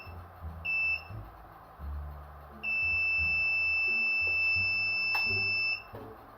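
A short electronic beep, then a long continuous high-pitched tone from a Rockwheel electric wheel as it recalibrates, lasting about three seconds, loud and close in a quiet room.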